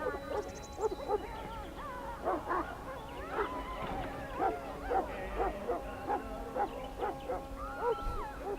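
A Mabari war hound in Dragon Age: Origins barks and yips repeatedly in a quick, uneven rhythm at moderate volume, with a few whimpering tones among the barks.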